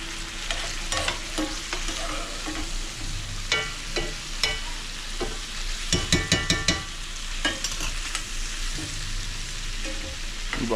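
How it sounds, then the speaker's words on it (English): Shrimp sizzling in butter in a pan while being stirred, with a steady frying hiss and repeated sharp scraping and clacking strokes of the utensil against the pan, several in quick clusters. "Move all our shrimpies around."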